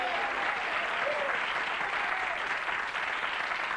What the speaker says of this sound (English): Our audience cheering there.